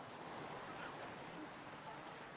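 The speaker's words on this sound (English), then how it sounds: "the sounds of splashing waves are unbelievably loud" Steady, loud wash of ocean waves on a summer beach in the visual novel Fate/Hollow Ataraxia, a continuous broad hiss of surf with no distinct individual breaks.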